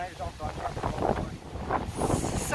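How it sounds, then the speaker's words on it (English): Strong, rainy wind buffeting the microphone at Dundrum Castle in Northern Ireland, rising and falling in gusts beneath a family chatting nearby. "So windy here, guys."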